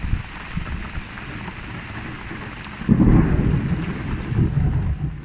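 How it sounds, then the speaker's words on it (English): A night squall over Gotland brings steady heavy rain pattering on surfaces, with a deep rolling rumble of thunder swelling midway and lingering beneath the downpour. "the squalls, thunder and lightning during the night before our departure"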